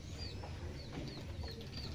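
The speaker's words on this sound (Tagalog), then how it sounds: "Ano yung mga manok na natalaok?" Roosters and chickens in a rural provincial yard, several short calls repeating at a distance over a steady low background rumble, with no one talking.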